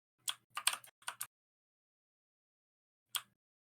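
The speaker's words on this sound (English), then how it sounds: "I too enjoy the sound of keyboard clacking." Computer keyboard keys clacking in a quick cluster of sharp, close clicks, then a pause before one final isolated keystroke.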